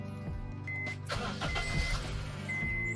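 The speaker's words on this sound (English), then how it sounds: "But start the car first" A Honda Civic's engine starts with a short cranking burst about a second in, then settles into a steady, quiet idle.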